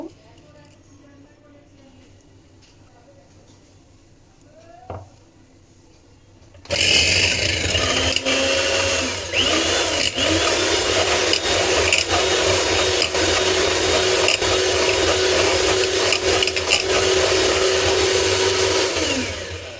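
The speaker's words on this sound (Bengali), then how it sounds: "আমি প্রথমে ডিমের সাদা অংশটা আলাদা করে নিয়েছি, এটা বিট করে দিব।" An electric beater whips separated egg whites at medium speed for a spongy orange cake. It starts abruptly and then runs as a steady, loud whirring drone for about thirteen seconds, after a quiet stretch with a brief clink.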